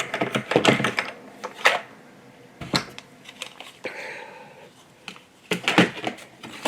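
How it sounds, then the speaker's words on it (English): A die cutting machine processes a Christmas tree card, giving a series of sharp clicks, clunks and rolling mechanical bursts in irregular clusters, close and fairly loud with no talking. "Let me just run it through the die cutting machine."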